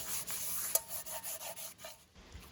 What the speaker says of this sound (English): kind of like mush it around the bottom of the pan and grease it